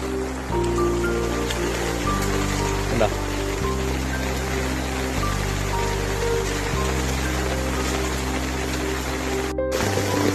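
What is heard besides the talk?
heavy rain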